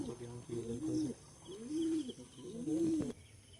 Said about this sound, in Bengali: এই যে সব পায়রা